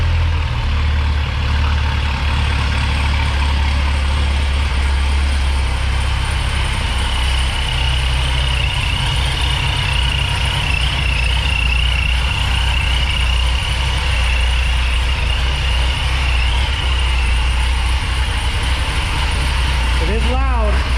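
A Chevrolet C7 Corvette fitted with cheap aftermarket headers idles steadily and loudly, a deep rumbling drone that holds for the whole stretch with faint mechanical ticking and a brief voice near the end.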